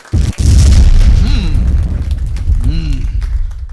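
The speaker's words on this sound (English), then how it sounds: "drop a bomb for that last caller if you can find it" A radio DJ's bomb-drop sound effect, a loud deep boom with a rumbling tail, heard close under voices that talk over it.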